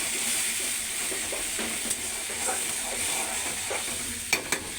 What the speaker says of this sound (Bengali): এবার একটু নাড়াচাড়া করে দিতে।